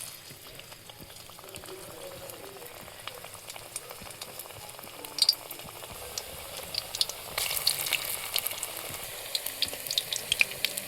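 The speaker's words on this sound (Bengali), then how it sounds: "আমি কিন্তু একটু দেখুন চ্যাপ্টা আকারে শেপ দিয়ে ভেজে নিচ্ছি" Flattened small shrimp pakoras sliding into hot oil and frying, a soft continuous bubbling that grows busier partway through, with scattered crackles and sharp spits near the close.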